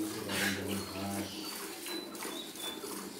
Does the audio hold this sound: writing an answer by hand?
no